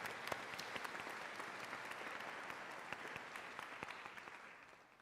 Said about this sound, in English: let us once more give Professor Ashley van Niekerk another round of applause